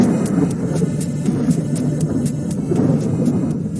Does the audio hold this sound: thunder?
yes